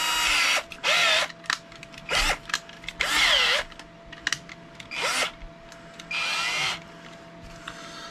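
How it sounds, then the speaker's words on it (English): A handheld power drill spins a model car tire clamped between washers, run in reverse. Several loud, close whirring bursts of about half a second to a second each are separated by short pauses. "I'm gonna stick it in the drill here."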